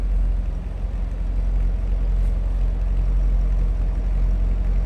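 A 2008 Chevrolet Corvette Coupe engine idles steadily, a deep, even low rumble held close and constant for several seconds with no talking over it.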